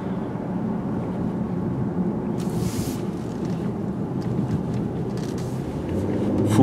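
A 2017 Mercedes-Benz CLS in sport mode accelerates at full throttle, its engine a steady, dense low roar that builds slightly toward the end, with wind noise over it.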